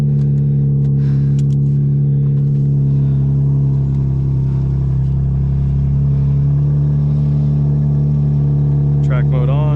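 Car engine with exhaust valves open, a loud steady rumbling drone held throughout, rising slightly near the end with a brief chirp.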